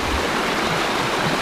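A river at a crossing point along a muddy trail to Lembah Datu, its water rushing loudly and steadily close by, a dense continuous roar with no talk.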